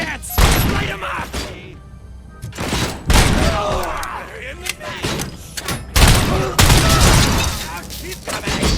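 Bursts of gunfire in the RoboCop video game, loud volleys of shots with thuds and shattering impacts in several waves, interspersed with voices shouting.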